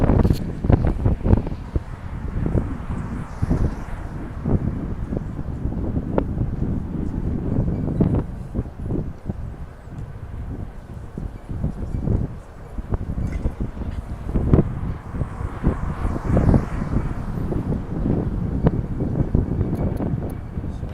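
Strong wind buffets the microphone continuously on a New York City street, a heavy rumbling roar with gusts rising and falling throughout.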